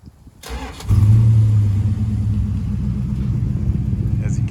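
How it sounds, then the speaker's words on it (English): A 1969 Plymouth Satellite convertible engine with Borla exhaust cranks briefly and catches, then settles into a loud, deep, rumbling idle with a throaty exhaust note, close up. "it's got the nice Borla exhaust on it. Sounds awesome."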